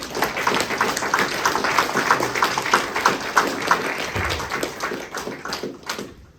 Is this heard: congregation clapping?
yes